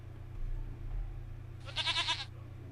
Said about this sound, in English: So let's go get me a goat.